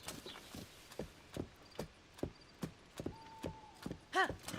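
Rhythmic hoofbeats of a horse in The Legend of Zelda: Tears of the Kingdom clip-clop at a steady walking pace, fairly close, with a short bright whinny near the end as the horse runs into a wall.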